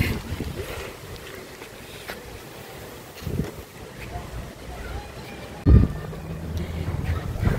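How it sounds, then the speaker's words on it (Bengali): Strong gusty wind ahead of a nor'wester storm, blustering against the microphone in uneven surges with a sharp buffet near the end. "এখনো বৃষ্টি নাই কিন্তু প্রচুর বাতাস"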